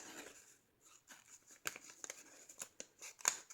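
Scissors cut through a paper calendar in short, crisp snips and rustles, close and quiet, with brief pauses between cuts.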